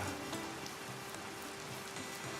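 Rain in the Pompeii city-building video game, a soft, even patter of raindrops on surfaces that holds steady and fairly quiet throughout, with no voices over it.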